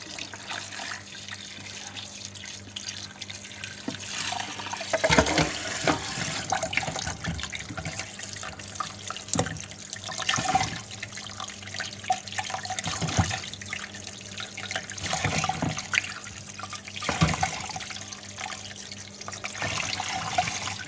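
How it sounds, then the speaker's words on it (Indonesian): Cassava pieces being washed and rinsed in water for a traditional Indonesian snack, with splashing, trickling and sloshing bursts repeating every few seconds, close by and without talk. "Nah, ini kita cuci dulu biar bersih. Kita kumbah dulu. Kita ganti lagi sama air yang baru."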